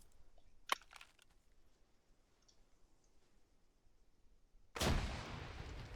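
A grenade explosion in a military training video game, a sudden loud broadband blast arriving after a few seconds of quiet broken by some faint clicks, its rumble sustaining to the end.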